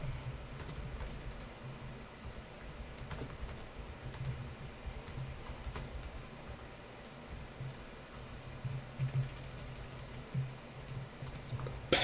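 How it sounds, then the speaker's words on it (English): Steady computer-keyboard typing on a podcast-style talk show set: a continuous run of light, fairly close key clicks with a few louder taps, over a low room hum and without talk. "do you hear the typing of the keyboard or something?"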